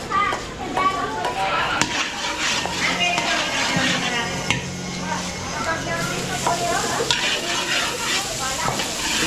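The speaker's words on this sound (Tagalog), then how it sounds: "So, gigisa muna rin sa bawang sibuyas yung ating pork kiniling." Ground pork sizzles and gets stirred with garlic and onion in a pan for palabok, a steady close frying hiss under constant talk. Children's voices and kitchen clatter carry in the background.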